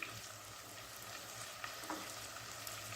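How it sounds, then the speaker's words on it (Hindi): Chicken with chicken powder, dried fenugreek, ground spices and white pepper fries in a pan, making a faint, even sizzle with a couple of soft stirring clicks, quiet and without speech. "अब इन मसालों के साथ इसको हम भूनेंगे"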